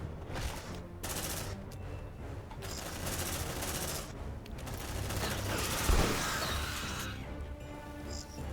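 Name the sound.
gunfire in video game Aliens: Dark Descent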